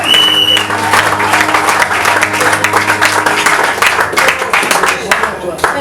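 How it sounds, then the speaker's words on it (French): Church congregation bursting into loud, sustained applause, dense clapping filling the room with voices mixed in. "Acclamons."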